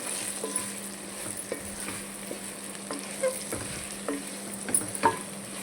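Dry red chillies, coriander seeds and chana dal roast in a pan for a stuffed brinjal fry masala, giving a low steady sizzle broken by scattered stirring scrapes and a few sharper clicks of seeds and spices shifting, with no talking.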